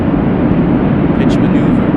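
The Fusion Air rocket engine ignites after an air-launch release, giving a loud, continuous broadband roar that holds steady throughout.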